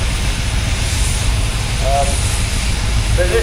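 A Ferguson tractor engine runs steadily in the arena at a steam rally at Tinkers Park, Hadlow Down, Sussex. It gives a continuous low rumbling drone, with commentary over a public address system heard throughout.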